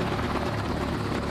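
A combat helicopter carrying trainees over the Amazon River, its steady broadband rotor and engine roar filling the air continuously at close range with no voices.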